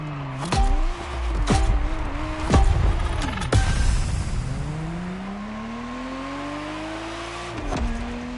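A Ferrari Testarossa engine in The Crew Motorfest revs up through several quick gear shifts, each marked by a sharp break, then settles into a steady drone before one more shift near the end, loud and close with no talking.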